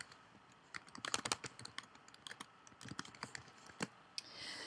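Keys clacking on a computer keyboard, irregular bursts of close, crisp taps with short pauses between, alone in a quiet room.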